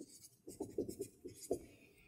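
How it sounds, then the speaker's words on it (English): Marker or chalk writing on a board during a second-grade math lesson on telling time, heard as a few short, soft scratchy strokes close by with pauses between them. "Let me write it here."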